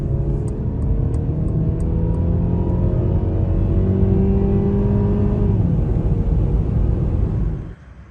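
A 2023 Mercedes C-Class drives on a road in Switzerland, its engine a steady, close rumble that holds for most of the stretch with rising and falling tones before dropping off sharply near the end; no one talks.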